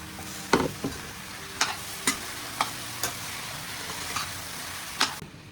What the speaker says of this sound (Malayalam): വീണ്ടും ഇളക്കുക. തക്കാളി ഇട്ട് ഇളക്കിയതാണിത്.